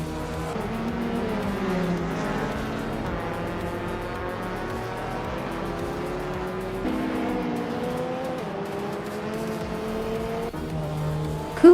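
A 2010 Peugeot RCZ race car in a racing video game, engine droning steadily with rising and falling gear pitch, other cars nearby, and a sharp tire squeal at the end, no talk.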